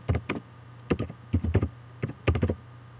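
Typing on a computer keyboard while entering a search query. It comes as several quick bursts of close, crisp key taps with short pauses between them, and no one speaks.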